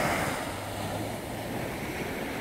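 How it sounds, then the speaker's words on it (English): Wake waves from a ship passing through a channel wash ashore on a still autumn evening, a steady broadband wash with no distinct breaks, moderately loud and unbroken, with no talking. "a ship's just gone by, creating some waves."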